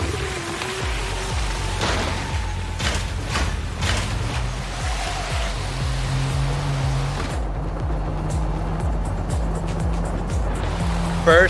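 A car drives in first person in the Neverness To Everness game, its engine humming and shifting pitch with gear-like steps beneath a steady wash of rain-like hiss, while voices talk over it.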